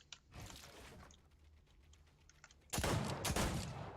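Gunfire in a video game: a few scattered shots early, then a loud, dense burst of rapid shots over the final second and a half, with no talking.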